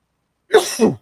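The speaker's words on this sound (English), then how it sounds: "while I get rid of my cough" One short, close cough in two quick bursts, loud against otherwise silent surroundings.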